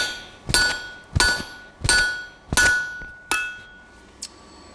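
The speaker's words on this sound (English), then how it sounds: "use my hammer to get the punch into the center" A hammer strikes a punch into a hot iron bar on an anvil while forging a tie bar, five loud ringing blows at an even pace, then a lighter sixth tap, with bright metallic overtones hanging between hits.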